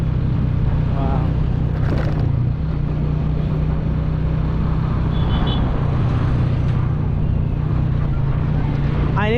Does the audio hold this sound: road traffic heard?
yes